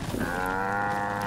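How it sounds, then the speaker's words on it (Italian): A cow mooing in Fallout 4, a single long drawn-out moo heard up close and clear, with no talk. "Qualcuno aiuti questa povera mucca."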